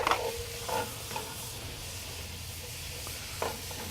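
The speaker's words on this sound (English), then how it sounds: "My onions, peppers, garlic, been cooking in that bacon fat for about 5 minutes or so." Onions, peppers and garlic fry in bacon fat for chili cooked on a Big Green Egg. A soft, steady sizzle carries on throughout, broken by a few light stirring scrapes.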